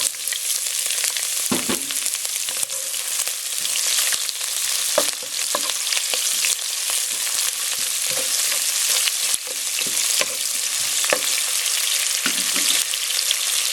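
Onion sautéing in a pan, a dense, continuous close-up sizzle with occasional crackles and light stirring knocks, no voices.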